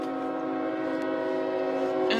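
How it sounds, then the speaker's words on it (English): A passing train sounds its horn, a loud sustained multi-tone blare that holds steady close by, with a brief rattle near the end and no speech. "here comes a train"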